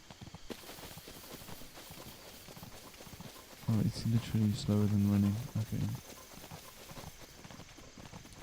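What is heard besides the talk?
horse hooves galloping while riding a horse in a video game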